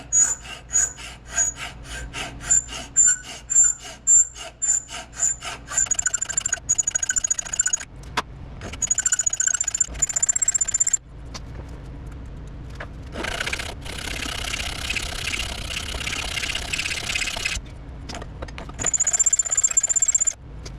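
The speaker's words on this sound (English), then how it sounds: "we're gonna go ahead and see if we can file these smooth" Hand file rasping across the grooves of a Yamaha YZ125 two-stroke clutch basket, rapid repeated strokes at first, then longer scraping bursts with short pauses, close and fairly loud.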